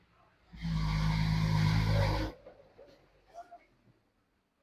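Bus on a route beside a small house roars past close by, a loud steady engine and road rush that builds quickly, holds for nearly two seconds and then cuts off, leaving faint background noise.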